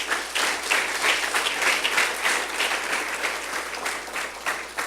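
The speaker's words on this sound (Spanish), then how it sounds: "Denle un aplauso fuerte a Dios de la gloria" A church congregation applauds loudly during a sermon, a thick, continuous roar of clapping holding steady throughout with a low hum underneath.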